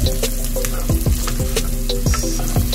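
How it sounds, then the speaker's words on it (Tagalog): Fried pork stirred into Bicol Express in a pan: rhythmic scraping strokes of a utensil across the pan, about one per half second, over a steady close sizzle, with no talking. "lalagyan na natin yung ating pork na nating na-fried. Mix lang natin mabuti."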